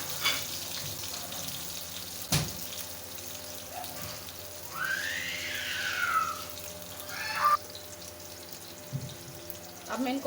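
An egg omelette with potato and tomato fries in a pan with a steady close sizzle. A few clatters are heard as the pieces are turned, and brief faint bursts of movement come through without any speech.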